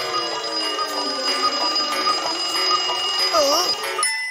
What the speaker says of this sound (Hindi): तभी अलार्म बजता है।